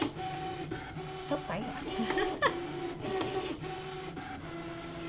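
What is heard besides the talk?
Brother ScanNCut machine drawing seam allowance on fabric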